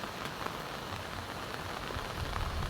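Heavy typhoon rain from Typhoon Aghon pours down continuously, a dense, loud wash of drops drumming on surfaces with no break.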